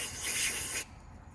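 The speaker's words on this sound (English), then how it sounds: "We're gonna spray that out." A steady spray hisses loudly for under a second into a small-engine carburetor, then cuts off abruptly, leaving a quiet background.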